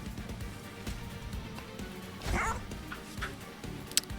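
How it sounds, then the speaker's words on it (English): A dog bark sound effect from the card game Monster Train 2: short yipping barks over a busy game soundtrack. "Puppy dog."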